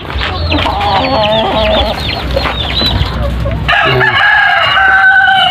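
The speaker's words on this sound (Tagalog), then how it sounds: "Mga Chinese chicken yan, saka Rhode Island." Chinese chickens and Rhode Island Red hens and roosters crow and cluck close by, several birds calling over each other, with a long crow rising in the final seconds above steady farmyard background noise.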